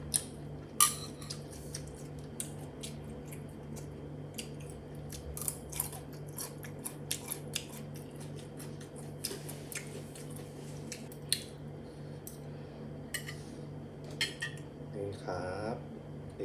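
Scissors snip through a large piece of soy-marinated salmon to halve it, giving a series of sharp, irregular close-up clicks and cuts over a low steady hum.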